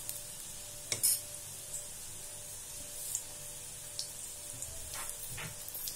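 Pattanum pakoda frying slowly in a little oil over a low flame, a soft continuous sizzle with occasional faint pops and stirring sounds, quiet and close.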